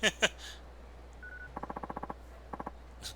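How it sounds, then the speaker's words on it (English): Phone dialing tones in the video game Yakuza 3: a quick run of evenly spaced electronic beeps, then a shorter group of three, preceded by a couple of louder soft clicks. "Oh, gotta call Date."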